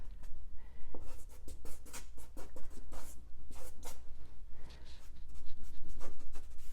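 A mint-green Sennelier soft pastel is dragged lightly across paper in quick, repeated scratchy strokes, close and soft, with brief gaps between passes.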